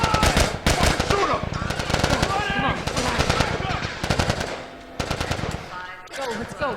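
Rapid automatic gunfire rattles in The Last of Us during a prison solitary confinement section, loud continuous bursts with brief pauses while people shout over the shooting.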